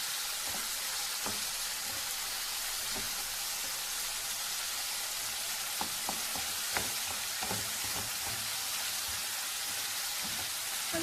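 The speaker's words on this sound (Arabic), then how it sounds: "هلا هون بنقلي الدجاج على دفعتين." Chicken pieces for stroganoff fry in a pan in batches, giving a soft continuous sizzle broken by scattered sharp pops and crackles, with no talking.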